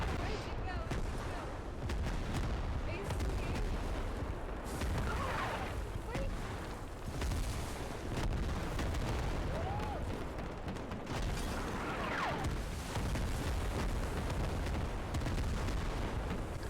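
Artillery strike explosions pounding a forward base lined with Hesco walls in the video game Squad, a dense continuous barrage of booms and gunfire-like blasts over a steady roar, with voices talking faintly underneath.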